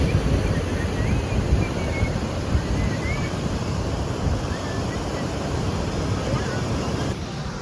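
A swollen village river rushes in flood under heavy monsoon rain, a loud continuous roar buffeted by wind noise on the microphone, with a faint voice in the background.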